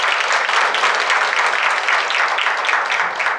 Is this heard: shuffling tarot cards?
no